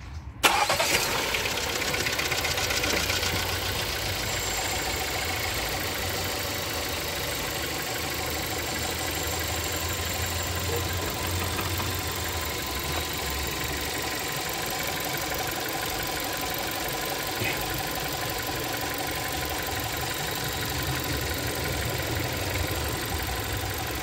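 A car engine cranks and catches within the first second, then settles into a steady, fairly loud idle with a faint rattle, running on alone throughout during fuel pressure sensor testing.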